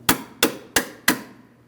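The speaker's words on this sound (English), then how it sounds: "we're going to tap this to break it free." Four sharp metallic hammer taps on a nut threaded onto a bolt, working it free during rear CV axle replacement on a 2005-2010 Chrysler 300 5.7L V8; evenly spaced, close and ringing briefly.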